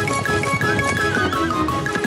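A horse whinnies loudly up close with a shrill, wavering neigh, accompanied by rhythmic hoof clip-clops.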